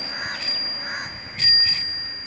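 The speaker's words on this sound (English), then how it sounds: "And then you have nice bell." A bicycle bell rings in short bright dings, one near the start and a louder double ring about a second later, close and clear with no talking.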